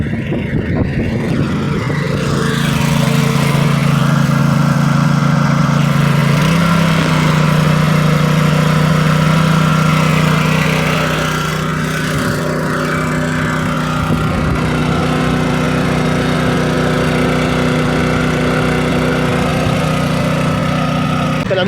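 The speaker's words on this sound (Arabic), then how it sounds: "من هذا الموتور او من الموتور وبالبير." A motor pump drawing irrigation water from a well for hemp fields in Morocco, running as a loud, steady engine drone close by with slight shifts in pitch throughout.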